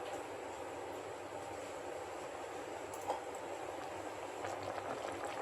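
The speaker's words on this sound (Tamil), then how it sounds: "புளி வந்து ஊற்றிட கொஞ்சம் நேரம் கொதிக்க விடணும்." Tamarind water boils in a cooking pot, a steady, faint bubbling hiss that holds evenly throughout with no voices over it.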